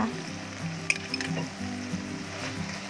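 Vegetarian nam prik ong, a northern Thai chili paste, stir-fries in a pan as its liquid cooks down, giving a steady close sizzle broken by a few scrapes and clinks of the utensil.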